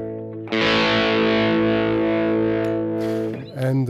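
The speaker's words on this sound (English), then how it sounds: "Crunch guitar is a medium setting between clean and distortion." An electric guitar on a crunch setting, between clean and distortion, rings out a loud sustained chord with rich harmonics that holds for nearly three seconds, then decays as a second strum cuts in near the end.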